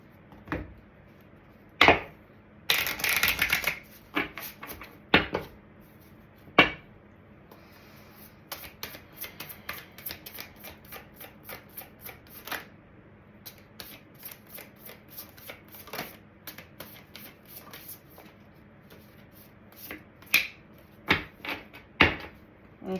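Tarot cards being shuffled up close in a series of crisp riffles, slaps and flutters, with one longer dense burst of shuffling near the start, alone and moderately loud.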